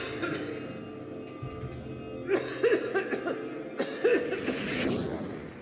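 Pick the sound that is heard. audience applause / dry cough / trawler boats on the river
dry cough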